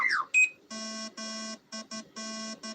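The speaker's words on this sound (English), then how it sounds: "Sounds like a burglar alarm." An electronic alarm sounds in a quick sequence of harsh, buzzy tonal beeps of uneven length, starting with a short chirp and then pulsing on and off, clear and fairly close with no talk over it.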